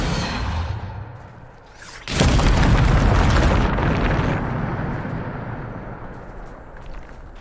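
A Depulso spell cast in Hogwarts Legacy on PC lands as a sudden loud whooshing blast, erupting into a roaring explosion-like burst that slowly fades, preceded by a softer ambient rumble.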